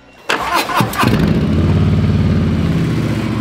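Harley-Davidson Softail Street Bob 107 motorcycle with closed exhausts cranks with a couple of short bursts, then catches and settles into a loud, steady, lumpy V-twin idle close by, with no talking.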